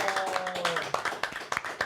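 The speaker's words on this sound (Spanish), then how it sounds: "Un aplauso." Scattered hand claps from a small audience in a podcast studio, a few loose claps with tonal voice fragments mixed in, fairly close and brief.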